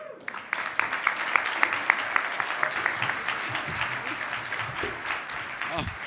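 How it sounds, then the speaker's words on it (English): Crowd applauding and cheering wildly at a gala event, sustained thick clapping with rhythmic accents and whoops, loud and close throughout with a few voices rising over it. "You hear that crowd going wild?"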